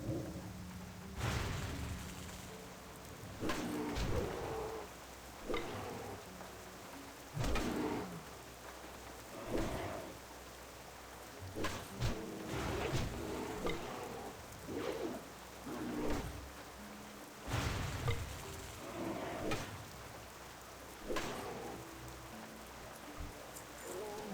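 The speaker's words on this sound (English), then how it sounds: "Medium heavy rain, I guess" Medium-heavy rain falls in World of Warcraft, a steady patter with thunder rumbling and birds cooing and calling on and off, moderately quiet throughout.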